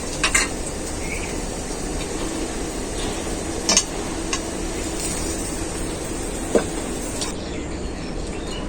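Onion and coriander leaves frying lightly in a pan: a steady, continuous sizzle with a few faint clinks of a utensil against the pan, heard alone without talking.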